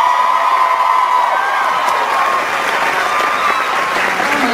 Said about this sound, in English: I think we could give a round of applause for that